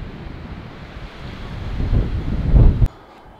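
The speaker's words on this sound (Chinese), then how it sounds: "你看外边风很大" Strong wind blows outdoors beneath Jade Dragon Snow Mountain, a rushing, buffeting roar against the microphone that swells in gusts and peaks loudly before cutting off abruptly near the end.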